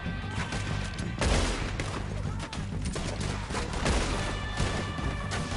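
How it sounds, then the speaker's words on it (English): Gunfire in Red Dead Redemption 2, rapid overlapping shots in a loud, dense fusillade of cracks and booms across the whole stretch, with shouted voices mixed in. "Why are you shooting?"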